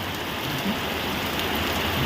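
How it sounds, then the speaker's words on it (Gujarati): Steady rain falls on a Gujarati village home in Botad, with a continuous even patter and no talk. "વરસાદ આવશે આવી ગયો ને"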